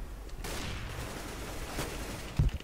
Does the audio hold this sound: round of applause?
no